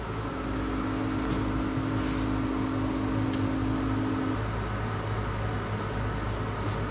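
An XTool D1 laser engraver works on an egg, its steady machine whir and fan hum filling the space, with a sustained motor tone that cuts out partway while the background drone continues evenly.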